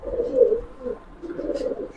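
Giribaz pigeons coo up close in a couple of soft, throaty, rolling phrases with a short gap between them, clear against a quiet background.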